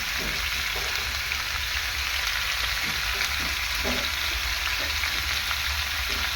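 Ginger paste fries in a pan with a dense, constant close sizzle like heavy rain, a few soft knocks of a spoon under it and no voices.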